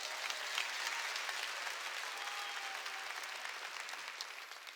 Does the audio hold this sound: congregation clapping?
yes